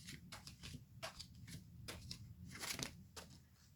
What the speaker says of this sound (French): On va maintenant étaler les cartes et je vais sortir 5.